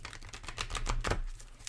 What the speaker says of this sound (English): I am going to shuffle and deal you an Angel Oracle card